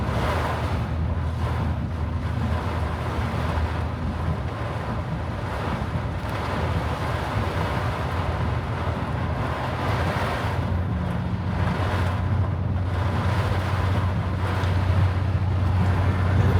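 Storm surge on Fort Myers Beach during Storm Debby: ocean waves wash over and flood the beach, heard as a continuous loud roar of surf mixed with heavy wind buffeting the microphone, with no talking.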